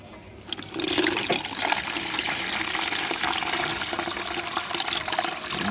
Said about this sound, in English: So we are going to strain it now.